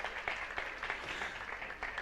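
A congregation at a Jain religious discourse claps in approval of a temple donation. The applause is faint and distant, a soft continuous patter lasting about two seconds with no speech over it.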